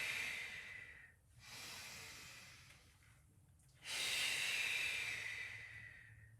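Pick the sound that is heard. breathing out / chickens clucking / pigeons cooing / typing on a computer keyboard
breathing out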